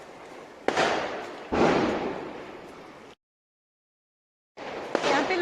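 Diwali firecrackers burst outside in sharp, loud bangs, each trailing into a long crackling rumble, with a brief quiet gap before another explosion.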